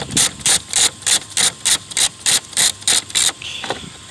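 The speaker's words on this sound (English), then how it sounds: "take your long extension And all you're gonna do is just put it in there and start" A ratchet on a long extension loosens a 14mm nut on a 1998 Dodge Grand Caravan, giving a regular series of about a dozen crisp, close clicking bursts before a softer, scraping finish.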